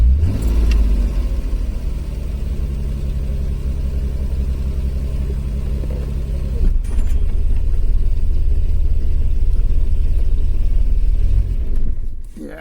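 A car engine runs loud and close after carburettor cleaning, idling roughly with an uneven, lumpy rumble that shifts partway through and ends in a final sputter.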